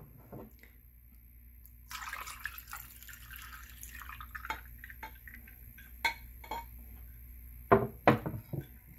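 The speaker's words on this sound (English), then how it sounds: "So let me pour a glass for you." Carrot punch, a spiced blended carrot drink, is poured into a glass, giving a short trickling, dripping liquid sound with a few louder splashes and clinks near the end, heard close and fairly quiet.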